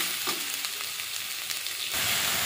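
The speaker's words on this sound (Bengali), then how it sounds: "দিয়ে ভালো করে মশলাটা কষিয়ে নেব" Masala of chilli powder and mustard paste sizzles steadily in hot oil, a close, continuous frying hiss with faint scraping, growing louder near the end.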